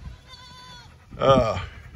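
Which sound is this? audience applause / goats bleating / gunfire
goats bleating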